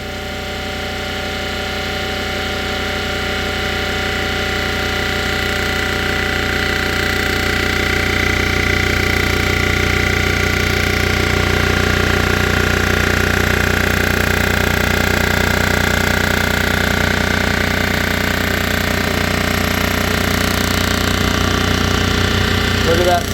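A machine cuts down the cylinder head from a 6 hp Briggs & Stratton engine, taking off another half thousandth. A steady grinding whir rises and holds for the whole stretch with no breaks. Someone talks quietly underneath.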